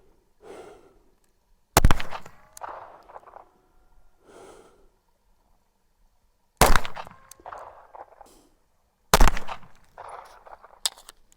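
Ten rounds fired at about 25 yards from a Springfield Armory Echelon 4.0C pistol: sharp, loud shots come singly with long gaps between, while quieter handling noises and breaths fill the pauses.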